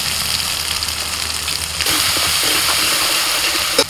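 Cumin and ginger paste with turmeric hits hot oil already tempered with dried chilli, bay leaf and whole cumin, giving a loud, steady rushing sizzle that jumps in intensity partway through.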